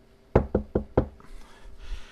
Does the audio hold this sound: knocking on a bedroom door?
yes